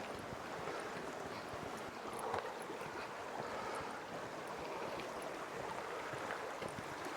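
A small brook flows under a footpath bridge, giving a faint, steady rushing and trickling wash with no break and no voices.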